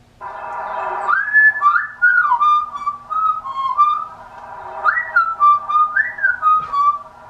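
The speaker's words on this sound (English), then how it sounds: "It sounds like a guy whistling." A man whistles a melodic tune with sliding, rising and falling notes, close and clear, in two phrases separated by a short pause, with no other sounds.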